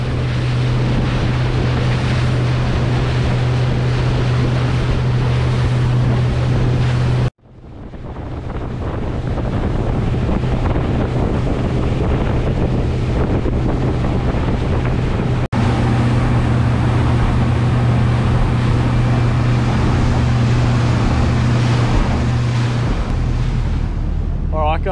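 Loud, steady drone of a new 2022 Mercury 115hp outboard motor running over water at up to 4,500 rpm, with heavy wind buffeting the microphone and splashing; a brief break midway.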